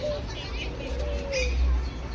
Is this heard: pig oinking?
no